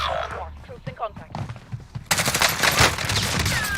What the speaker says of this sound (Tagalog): Ay, lakas naman ng baril.